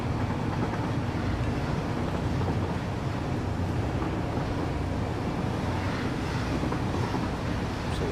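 Steady broadband rumble of a train running along rails in a desert-themed video game world, a continuous rolling drone with no breaks, no voices heard.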